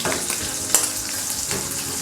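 Liver fries in a pan with a constant crackling sizzle close up, with a few brief clinks and stirring scrapes over the hiss.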